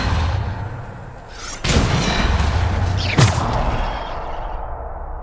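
A Depulso spell blast in the video game Hogwarts Legacy: two sharp booming impacts with whooshing tails, the second slightly weaker, over a steady rumbling game background.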